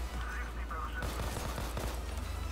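Rifle gunfire in the video game Payday 2 crackles in a quick burst of shots over a steady low game hum, with players talking over the action.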